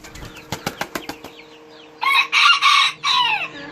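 A Serama rooster gives a string of sharp, rapid clucks, then a loud, close, high-pitched crow broken into several bursts.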